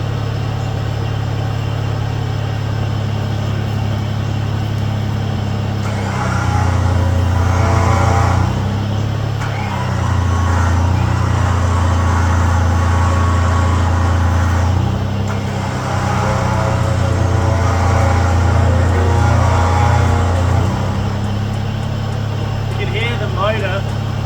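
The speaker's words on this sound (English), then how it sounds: "normally you run winches when the motor's on, you can hear" A truck engine runs steadily while a 13,000 lb winch is operated, the idle swelling in several load surges as the winch draws power, with a person talking over the droning motor.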